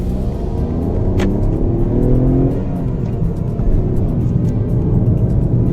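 A Tata Punch Creative 2023 pulls away as the clutch is released, its engine rumbling loudly up close and rising in a brief rev, with a steady low drone throughout.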